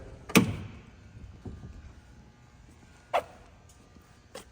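A 1970 Chevrolet Chevelle door unlatches with a sharp click and thump, followed later by two more short clunks against quiet background.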